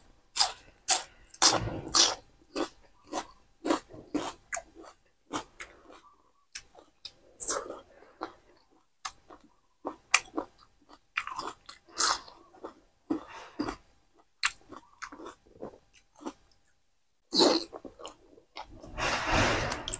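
Chewing on giant octopus tentacle dipped in spicy seafood sauce, with close, wet bites and crunchy chews coming in irregular bursts separated by short pauses.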